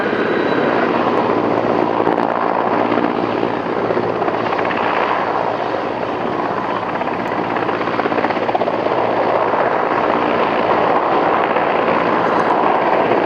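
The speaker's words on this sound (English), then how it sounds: "tandem rescue on board the highly capable multi-purpose Mi-17 helicopter" A Mi-17 helicopter roars overhead at close range during a Nepal Army Day rescue demonstration, its rotor and engine noise loud and continuous throughout, with no voices.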